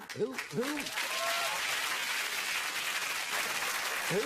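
Studio audience on a television panel game show claps steadily and fairly evenly at moderate distance, with voices briefly heard over the start.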